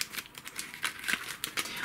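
Taped soap packaging being opened produces quick crinkling and crackling bursts of plastic and tape, close and fairly quiet, in an irregular series of short rustles.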